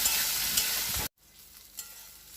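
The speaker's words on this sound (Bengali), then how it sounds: "টমেটো কুচি দিয়ে ভালো করে কষিয়ে নিতে হবে, টমেটোটা যতক্ষণ না গলে যায়।" Chopped tomatoes sautéed and stirred in a pan for a prawn curry, a loud steady sizzle that cuts off abruptly, followed by quieter faint frying and a brief scrape.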